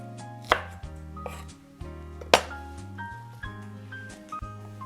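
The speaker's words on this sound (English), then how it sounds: "scallions that I will chop. We'll chop the white part and the green part. Just roughly chop." A knife roughly chops scallions on a cutting board, a series of sharp, close taps at an uneven pace, with soft background music underneath.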